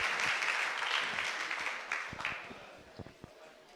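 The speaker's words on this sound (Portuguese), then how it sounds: "Vamos recebê-lo com aplauso." Audience applause welcoming a speaker at a Pentecostal studies conference panel, a fairly faint, steady patter of clapping that thins toward the end, with a few isolated claps sounding at the close.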